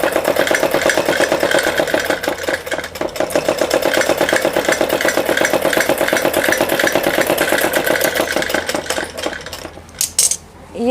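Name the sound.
sewing machine stitching a four-panel salwar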